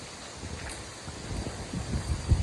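Wind from an approaching storm rushes and buffets steadily outdoors, building slightly, with low gusty rumble on the microphone and no speech.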